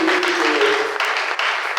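A church congregation applauds and cheers loudly and continuously for a couple of seconds, a dense steady wash of clapping and voices close around.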